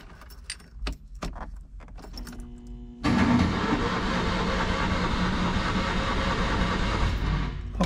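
A Citroën 2CV engine, with the choke set, cranks over on the starter: a few faint clicks and key jangles give way to a loud, steady churning drone that runs unbroken for about five seconds.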